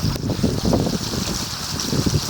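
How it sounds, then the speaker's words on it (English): Rainwater runs and rushes steadily outdoors in the bush, a continuous wash of flowing water with gusty wind buffeting the microphone throughout. "You hear the water?"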